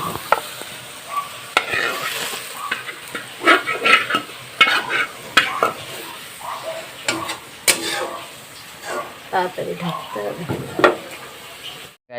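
Fried garlic tempering is poured over a big rock fish (shol) in a pan, bringing a bright sizzle mixed with scraping stirs and scattered metallic clinks of utensil against pan, rising and falling irregularly.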